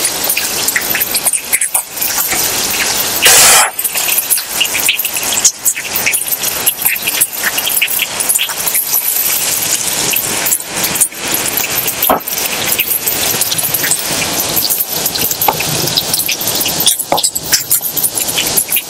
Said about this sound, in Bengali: এখানে আমি হাফ চামচ রসুন বাটা আর একটু আদা বাটা ভালো করে ভেজে নিই।